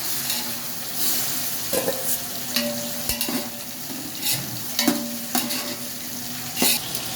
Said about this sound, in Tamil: வெங்காயம் போட்டு நல்லா வதக்கிக்கலாம். வதக்கின பிறகு நீங்கள் இப்போ தக்காளி போடலாம்